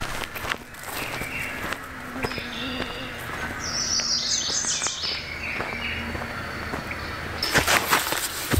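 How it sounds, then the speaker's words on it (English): Birds chirp in quick, high trills over a steady outdoor background in a day use park at night, with frogs calling, shuffling footsteps and rustling nearby. "birds are chirping like crazy"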